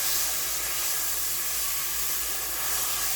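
Banana steak frying in a seasoned pan with little oil, a steady close hiss of sizzling that holds evenly without a break, with no voices over it.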